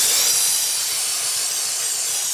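A dry ice blaster cleaning the Brembo brakes on a BMW M2 CS gives a loud, continuous, steady blast of high-pressure air, close by and with no break or talk.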